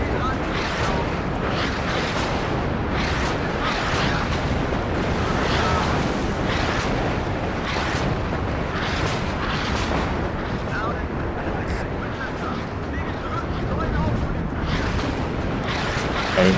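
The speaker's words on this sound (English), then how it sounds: "Oh, here comes the rockets." Rocket artillery barrage in the video game WARNO, a dense, continuous rumble of many overlapping explosions and blasts that holds at a steady, heavy level throughout with no breaks.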